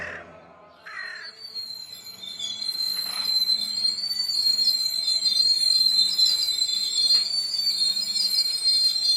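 A Bardhaman local passenger train pulls into Dankuni with a steady rumble of wheels on rails and a high metallic squeal that builds and holds, while a crow caws near the start.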